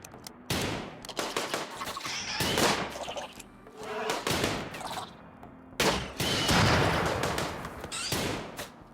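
Rapid bursts of gunfire from a RimWorld colony battle, dense volleys and fusillades rattling close and loud across the whole stretch with only brief lulls between them.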